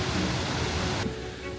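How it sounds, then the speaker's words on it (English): A waterfall in Norway blown upward by wind roars as a broad, steady rush of water and spray, loud and close, then drops noticeably quieter partway through; no talk is heard. "Never seen a waterfall gone upwards before."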